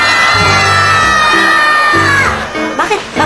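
A crowd of people shouting and whooping at a Santa Rosa festival, loud and continuous, with voices overlapping and rising in bursts toward the end.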